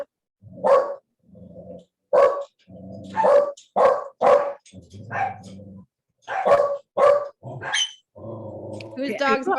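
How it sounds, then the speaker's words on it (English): A dog barks in a quick series of sharp, close, loud barks with short gaps between them, interrupting an interview held over a call, with occasional growling. "Whose dog's barking?"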